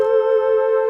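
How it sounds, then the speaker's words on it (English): Studiologic Sledge synthesizer fluty, mellotron-like chord sound, a single steady sustained tone that is loud, smooth and clean over about a second, heard alone. "A sort of a fluty sound, it's almost like a mellotron really."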